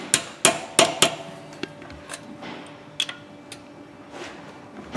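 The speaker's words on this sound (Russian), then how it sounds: "И затем длинной головкой на 10 аккуратненько добиваем" A long 10mm deep socket tapping a valve stem seal into place on a Renault engine head: a series of sharp metallic taps, several quick ones early then sparser lighter ones, close and clear with no talking.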